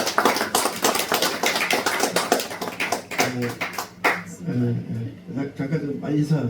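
An audience at a K-Music Sketch launch ceremony claps steadily as a painter is called up to the front, the applause running under a man's continuing speech before giving way to talk.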